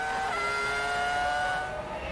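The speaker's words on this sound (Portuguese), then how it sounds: "Ele sai dos boxes e já volta acelerando fundo ali, na reta oposta." A Ferrari Formula 1 car driven by Rubens Barrichello leaves the pits and accelerates hard onto the back straight at the Brazilian Grand Prix, a loud sustained shrieking engine note rising and holding before easing slightly at the end.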